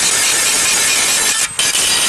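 Angle grinding on a repair area of a Subaru's oil pan: loud, steady, close abrasive whine that runs almost without a break, dipping briefly near the end before resuming.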